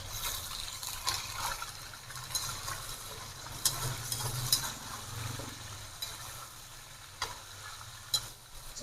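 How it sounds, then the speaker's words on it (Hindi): Chicken being stirred in a kadai for restaurant-style chicken karahi, a steady low sizzle of frying with scattered scraping clicks of the spoon against the pan. "इसको अब चला लेते हैं।"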